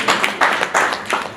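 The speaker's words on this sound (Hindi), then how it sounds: "तालियां बजाते हैं" Short bursts of applause at a city BJP party gathering as a leader is honoured, several uneven waves of clapping from a crowd, fairly loud with no talk over it.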